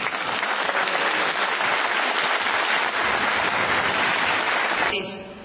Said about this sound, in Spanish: Le damos un aplauso a nuestro maestro.